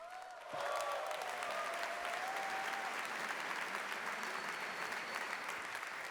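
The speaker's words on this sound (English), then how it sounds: "give a huge round of applause to Cameron and Tyler Winklevoss" Audience applause at a Bitcoin Amsterdam 2025 fireside chat, welcoming Cameron and Tyler Winklevoss to the stage, a steady broad wash of clapping that swells in after a brief quiet start and holds evenly throughout.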